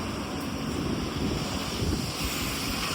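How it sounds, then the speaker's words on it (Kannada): River water rushes continuously beside an old Anjaneya temple near Ramalingeshwara in Karnataka, a steady broad roar mixed with gusty wind buffeting the microphone, moderately loud with no voices. "ನೋಡಿ ಹೊಳೆ ಎಷ್ಟು ಬರ್ತೈತೆ."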